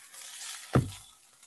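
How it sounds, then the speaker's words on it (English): Rice frying in a hot pan gives a soft, steady sizzle with one brief, louder stir or scrape near the middle, quiet and close, with no talk. "It sizzles and I can see nice crispy bits of rice."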